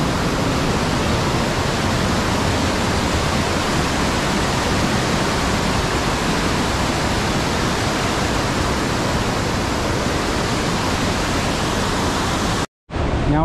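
Clear mountain stream on the Gosaikunda trek rushing in a steady, loud broadband wash, close and continuous with no talk, cutting out briefly near the end.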